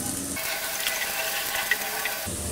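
Onion and garlic fry in hot oil with a pinch of panch phoron spices, giving a steady, close sizzle throughout with a few faint clicks of a utensil.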